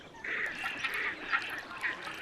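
Several ducks calling on a reservoir at Walthamstow Wetlands, London, in winter, over an open outdoor background hiss, a few nasal honking calls rising and fading at moderate distance.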